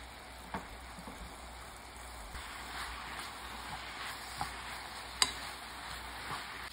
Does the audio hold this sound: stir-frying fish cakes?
yes